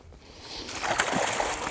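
A caught fish splashes the water beside a fishing boat in a quiet burst of sloshing and splattering that builds over the second half.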